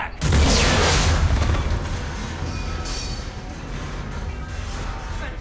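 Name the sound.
bomb explosion in Mass Effect 3 video game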